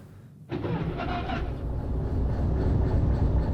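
Locomotive in Derail Valley firing up: a quiet lull, then a sudden loud rumble with a brief hissing burst, settling into a steady deep engine drone that grows slightly, no voices.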